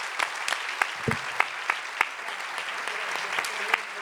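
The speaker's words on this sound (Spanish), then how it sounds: "Un gran aplauso para las compañeras" Steady crowd applause with a dense patter of many hands clapping, fairly close, at a political congress panel, while a voice speaks over it.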